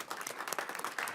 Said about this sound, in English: what about a round of applause of encouragement for our competitors?